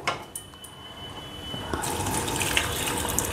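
Water pours into a pot for Bengali bitter gourd and bottle gourd dal with matar dal, starting with faint clicks and then a steady close gush that holds to the end.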